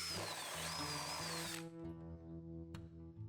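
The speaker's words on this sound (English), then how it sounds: "I decided to drill the holes for my bus wires" Power drill boring holes for bus wires on a new HO scale model railroad layout, a loud steady whine for about a second and a half, then spinning down into a lower humming rumble.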